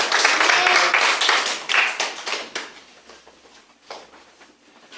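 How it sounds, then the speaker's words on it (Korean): A church congregation applauding during a Sunday worship service, a dense, loud burst of many hands that thins out and fades over several seconds. "하나님께 영광의 박수 올려드립니다"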